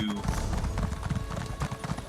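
A horse in the game Elder Scrolls Online trots with quick, regular clip-clop hoofbeats near a stable. The steps come moderately close and fairly quiet, with no talk over them.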